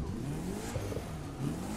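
A 1999 Mitsubishi Eclipse GSX engine in The Crew 2 video game revs steadily, its mid-pitched drone rising and falling at moderate volume with no talk over it.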